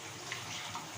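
Water rinsed out of a mixer grinder jar pours steadily into a cooking pot for fish curry, a continuous soft splashing gush that stays even and fairly faint throughout.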